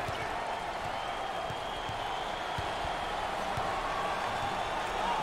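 A basketball arena crowd at a 2023 NCAA March Madness first-round game between Illinois and Arkansas gives a standing ovation, with a dense, steady roar of applause and cheering that holds throughout.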